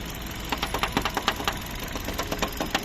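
A 2015 Kia Rio with a 1.4 manual setup idles steadily, close by, with a fast, even ticking pulse running through the engine hum, no voices over it.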